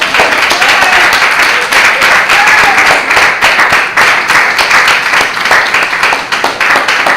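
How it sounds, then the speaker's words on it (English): Loud, sustained round of applause from a congregation at a religious gathering, dense continuous clapping filling the whole stretch at close range with a few voices mixed in. "he needs a round of applause"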